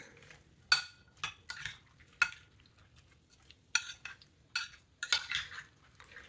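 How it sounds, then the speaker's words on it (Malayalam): Spoon stirring curd, fruit salad and honey in a bowl, producing a series of soft, close clinks and scrapes in irregular bursts in a quiet kitchen. "ഇതിലേക്ക് ഹണി ചേർത്ത് കൊടുക്കാം ഇതൊന്ന് മിക്സ് ചെയ്യാം"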